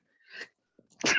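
A single sneeze, close and fairly loud, arrives after a brief breathy intake, amid a wrestling discussion podcast.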